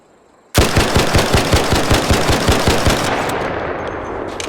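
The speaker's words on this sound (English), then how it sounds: "let's start with a horizontal grip 2 and not control it and just shoot and see what happens" The Bettina gun in a video game, fitted with a horizontal grip, fires one sustained full-auto burst of about a dozen loud, evenly spaced shots. It stops abruptly and a short ringing tail follows.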